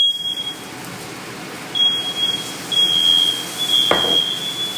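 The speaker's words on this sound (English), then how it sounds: "I always set the alarm off when I'm cooking" A smoke alarm chirps in short, high repeated beeps over a quiet kitchen while broccoli chars in a pan, with a brief louder burst near the end and no talking.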